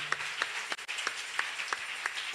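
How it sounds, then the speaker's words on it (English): A church congregation clapping hands in a fairly quiet, scattered rhythm of distinct claps, faint and steady across the moment with no speech. "You can clap your hands."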